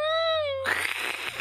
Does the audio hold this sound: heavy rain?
no